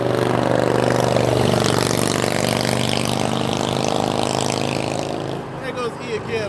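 A loud motorcycle roars past close by, its engine droning steadily for several seconds before fading away near the end, with voices faintly underneath.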